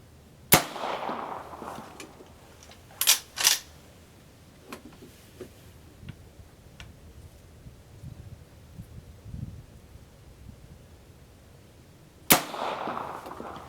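An original Henry lever-action rifle fires at a 200-yard target outdoors, giving sharp, loud single cracks spread across the stretch: one early shot, a close pair a few seconds later and another near the end, with quiet ambience between.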